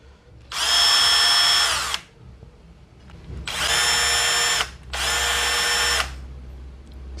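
A shake drill with a repaired head runs in three separate bursts of steady high-pitched whine, about one and a half, one and a quarter, and one second long. Each burst sits at a different speed setting, with brief quiet pauses between them.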